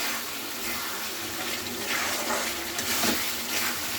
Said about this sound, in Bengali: এবার আমি এটা হালকা জল দিয়েছি